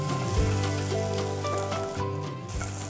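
Food frying in a pan, for a chicken cashew salad, a dense steady sizzle close up with a low hum underneath, no talking.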